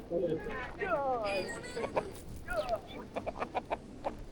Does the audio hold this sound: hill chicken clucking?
yes